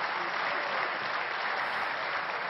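Steady, full applause from the deputies in France's National Assembly after a farewell speech, a dense, even roar of clapping that holds without pause.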